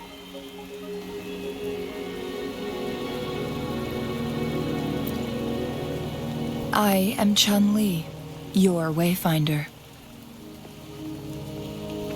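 Steady rain in the video game Wuthering Waves patters throughout as a soft continuous hiss, with a voice speaking briefly near the end.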